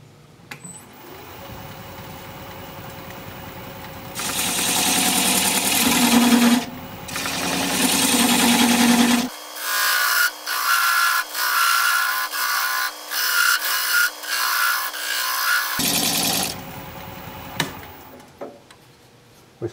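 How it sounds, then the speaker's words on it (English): A wood lathe spins a bowl blank while a 3/8 gouge cuts it, giving a steady whirring hiss broken by rough scraping bursts and short pauses as the tool lifts off and re-engages. No voices. "I'm going to switch to a little smaller gouge."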